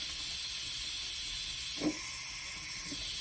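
Steam hisses steadily and loudly from the release valve of a pressure cooker during preparation of peppered steak, a constant broad rush with a brief muffled bump partway through and no speech.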